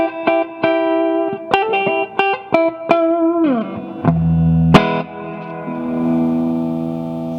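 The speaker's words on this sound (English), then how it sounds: "I don't find any problem with this guitar. It sounds great." An electric guitar played through effects: a run of plucked single notes and short chords with bright ringing overtones, then a lower chord struck and left to sustain and fade, loud and close with no talking.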